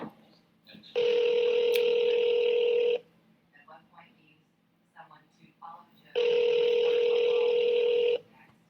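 A telephone rings loudly and close by in two long electronic bursts about two seconds each, separated by a pause with faint murmuring voices in the background.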